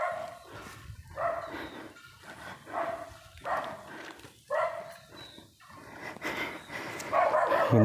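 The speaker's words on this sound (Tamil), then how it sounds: "ஓ, நாய் இருக்கே" A dog barks repeatedly in a hilltop village, sharp barks coming in bursts fairly close by, with some yips mixed in and open outdoor ambience behind.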